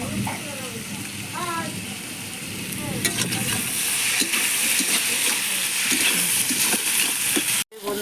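Onions, tomato and capsicum frying in a pan over a wood fire for a goat meat curry, a steady loud sizzle with scraping stirs throughout and a short dropout near the end, with a voice talking over it early on.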